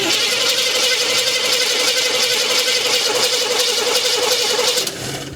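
A 1972 Chevy El Camino engine, abandoned and found in a garage, cranks loudly and continuously for nearly five seconds with a steady rhythmic starter churn, then cuts off without catching.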